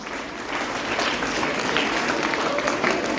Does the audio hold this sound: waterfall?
no